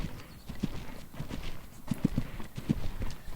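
Hooves of a large horse clip-clop in an uneven walking rhythm, several distinct knocks over a low rumbling background, fairly close and moderately loud.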